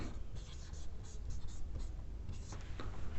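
Chalk or a marker writes the Celsius scale on a classroom board, giving short, close scratchy strokes in quick succession.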